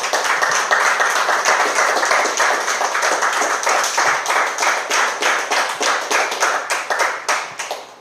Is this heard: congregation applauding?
yes